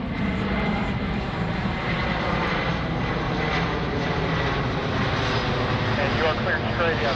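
Low, steady rumble of a large C-17 transport aircraft flying slowly over an airshow, fairly subdued and continuous, with announcer and radio talk in the background.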